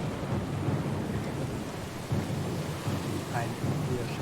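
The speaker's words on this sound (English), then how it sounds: "Lost and alone in the storm?" A thunderstorm at sea in the game Pillars of Eternity 2 gives heavy, steady rain with deep rolling thunder rumbling continuously underneath, dense and enveloping throughout.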